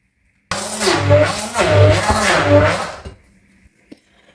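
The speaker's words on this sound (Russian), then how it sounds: "И вот так буду перебивать блендером." A blender motor whirs for about three seconds, its pitch wavering as it churns a thick mixture of cottage cheese, then cuts off, leaving a few faint clicks.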